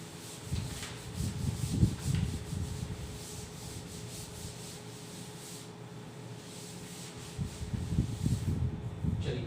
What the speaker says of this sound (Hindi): चलिए रब कर देते हैं।